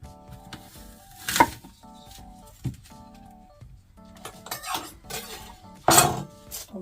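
A knife cuts through ripe apples on a board. A few distinct crunchy slices and knocks of the blade come between quieter handling sounds. The sounds are close, and no one speaks.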